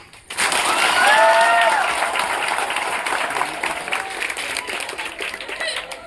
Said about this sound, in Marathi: दिनेशजींसाठी टाळ्या